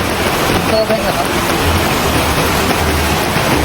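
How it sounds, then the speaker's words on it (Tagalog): Heavy rain pours down in a dense, loud, unbroken roar of broadband noise for the whole stretch, close to the microphone with no pauses. "sobrang lakas ng ulan"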